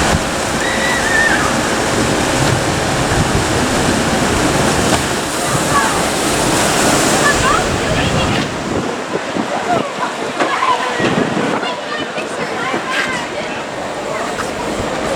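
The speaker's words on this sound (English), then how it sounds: "That is, of course, the water ride." The Jetstream water ride at Six Flags Magic Mountain, a loud continuous rush of splashing water with wind buffeting the microphone, easing slightly partway through, with people talking beneath it.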